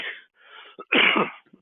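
A single person sneezes during a radio talk show: a soft breathy intake followed by one sharp, loud burst, then a few faint trailing sounds in a quiet room.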